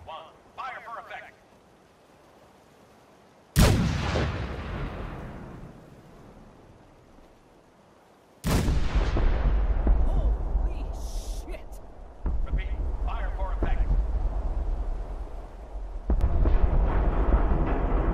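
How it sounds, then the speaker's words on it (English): Artillery batteries fire in the Fallout video game, with deep booming blasts that hit suddenly and roll off into long rumbling tails, the loudest leading into sustained heavy rumble, and scattered talk in between. "All batteries, prepare to fire on my mark. 5, 4, 3, 2, 1, fire for effect!"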